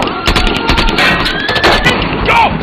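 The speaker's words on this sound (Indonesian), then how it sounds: "Terjadilah adu tembak." Dense bursts of gunfire in a film shootout scene, loud and close, overlapping shots with ringing tones and effects layered over them.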